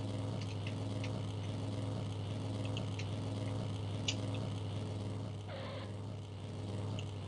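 A car engine in the vehicular combat game Darkwind: War on Wheels drones steadily at a low level while accelerating, a constant hum with faint clicks and no clear peaks.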